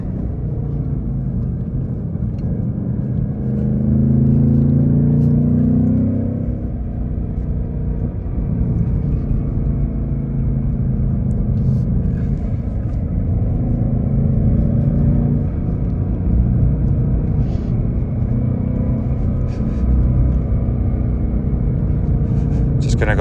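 A 2024 Ford Mustang GT with a manual gearbox, performance pack and active exhaust, driven in second gear down a gravelly mountain road. The engine gives a steady, close, low rumble throughout, swelling slightly as the car accelerates.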